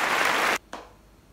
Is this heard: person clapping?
yes